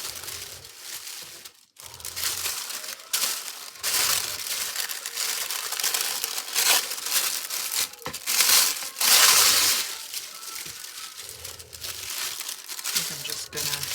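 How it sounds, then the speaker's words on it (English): Tissue paper is crinkled and crumpled by hand while being laid down for mark-making art, producing steady rustling, crunchy crackles close by, with brief pauses and a few louder bursts; quiet speech-like sounds mix in. "I'm going to lay down some tissue paper."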